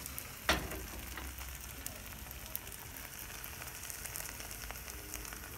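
A potato omelette frying in a pan after being flipped with a plate, a soft, steady sizzle at low level, opening with one brief knock.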